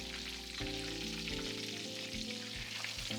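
Minced meat cutlets (menchikatsu) fry in oil kept around 135 degrees over low heat, giving a steady, close sizzle with a few soft shifts, with no talking.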